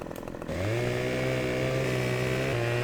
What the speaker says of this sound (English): So let's buy a chainsaw.